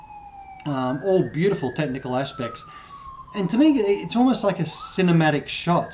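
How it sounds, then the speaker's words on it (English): An emergency vehicle siren wails on a Hong Kong street, a steady descending tone sweeping slowly down while someone talks over it nearby. "Excuse that siren."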